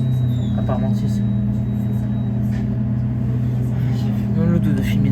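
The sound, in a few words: inside a moving city bus, line 13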